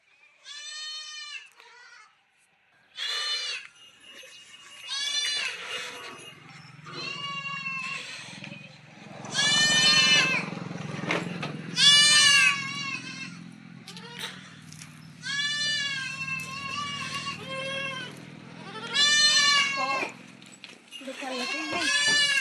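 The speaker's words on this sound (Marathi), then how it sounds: "करडं पण ओरडायला लागले, शेळ्या घ्यावा बाहेर काढून" Goats and young kids bleat again and again at close range on a farm in the early morning. The calls come in bursts with short gaps, over a low background rumble.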